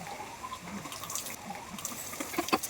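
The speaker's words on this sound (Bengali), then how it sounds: "কল থেকে দেখেছো কত জল পড়ে আমাদের এক টানে।" Water pours from a tap in a rainy outdoor spot: a continuous close splashing rush with irregular spatters and drips, growing a little louder toward the end.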